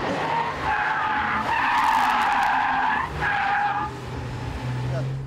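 Porsche 911 Carrera tires squeal and skid loudly through a double lane change, in long screeching bursts with a brief break, over engine noise and talk.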